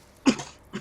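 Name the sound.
cough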